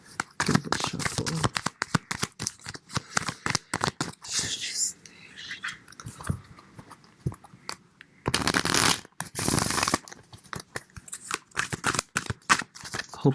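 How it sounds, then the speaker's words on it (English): Tarot cards being shuffled by hand during a reading, with repeated dry riffling and flicking bursts, close and fairly loud, and a brief pause before another vigorous round of shuffling. "So I'm gonna shuffle the cards."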